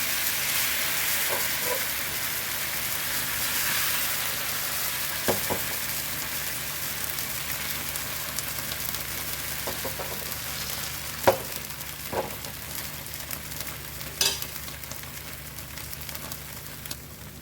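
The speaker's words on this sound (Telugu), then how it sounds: "ఇప్పుడు మనం ప్రిపేర్ చేసుకున్న ఈ బ్యాటర్తో దోశలు వేసేసుకోవడమే" Dosa batter spread on a hot pan greased with onion, giving a steady soft sizzle with scattered small pops and crackles, heard alone without talk.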